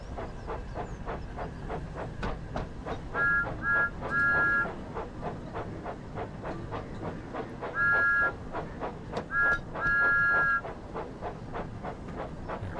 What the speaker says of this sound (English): Thomas blowing his whistle